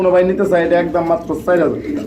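Pigeons on a farm selling American copper lar birds coo in soft repeated throaty bursts, close and fairly loud, overlapping one another across the whole stretch.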